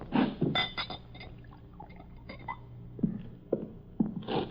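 Liquid poured into a glass in an old radio mystery set in a carnival wagon, with light clinks and short splashy pours spread across the moment, fairly close and without talk.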